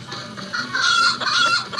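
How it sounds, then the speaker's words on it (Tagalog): A chicken clucks in a short, close burst of a few quick, rising clucks that sound clear and fairly loud, with no voices over it. "Manok, chicken patok."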